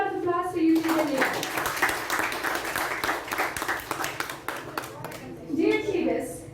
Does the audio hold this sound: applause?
yes